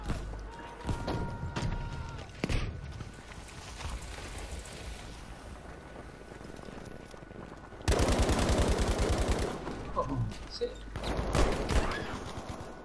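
Gunfire from the video game Battlefield V cracks in scattered shots early on, then erupts into a loud sustained burst of rapid automatic fire, with a second flurry near the end over wind-like ambience and occasional voice.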